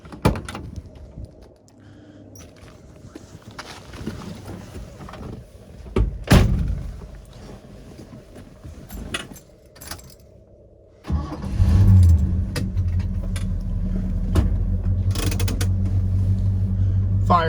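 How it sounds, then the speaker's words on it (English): A 1970 Ford Torino GT with a 429 Super Cobra Jet V8 cranks and fires up after some quiet handling noises, then settles into a loud, steady, rumbling idle close by. "I'm going to start this up and give you guys a walk around."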